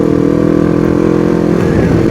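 New Kawasaki Ninja motorcycle with assist and slipper clutch, its engine running in a steady close drone with a faint rise in pitch near the end, ridden on a group Sunday morning ride.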